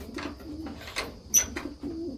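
Racing homer and highflyer pigeons coo nearby, a series of soft, low rolling calls with short pauses between them, plus a brief sharp chirp partway through.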